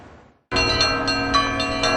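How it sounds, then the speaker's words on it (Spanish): After a brief quiet moment, church bells of St Volodymyr's Cathedral in Kyiv start ringing loudly with overlapping strikes and a sustained metallic hum. "Las campanas llaman a misa en la Catedral de San Vladimir, en Kiev."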